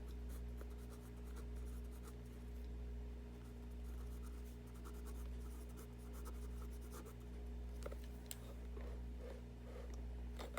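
Pen writing on paper produces faint, scattered scratchy strokes over a steady low electrical hum, with a few sharper taps near the end and no talking.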